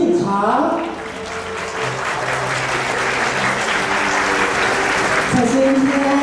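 Wedding banquet guests applaud as the flower children enter, a dense sustained burst of clapping from a large crowd, with a host's amplified voice speaking over it at the start and end.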